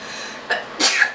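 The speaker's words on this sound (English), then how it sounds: "I'm gonna sneeze." A single close, loud sneeze with a short sharp intake before it, sounding alone with no talking.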